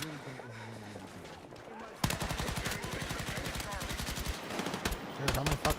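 Rapid bursts of video game gunfire rattle loud and close for several seconds with a steady machine-gun rhythm, and faint talk comes through in the quieter stretch before the shooting starts.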